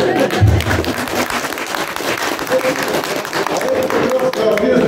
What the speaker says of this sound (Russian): Еще раз аплодисменты.